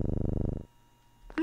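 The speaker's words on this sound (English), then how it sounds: "Purring." A cat purrs in the video game OneShot, a loud, steady rhythmic rumble of pulses lasting about half a second before it cuts off, followed by quiet and a brief bright sound at the end.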